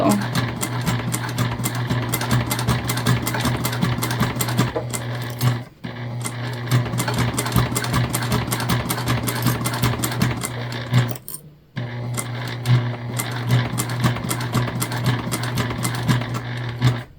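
A sewing machine stitches through four layers of vinyl with interfacing for a bag, a loud, fast, rhythmic mechanical chatter in close runs, broken by two brief pauses.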